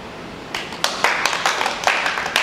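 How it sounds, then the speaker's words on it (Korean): Several sharp claps ring out irregularly during a stage play, about six or seven bursts over a couple of seconds, fairly close and distinct, with no talking. "박수"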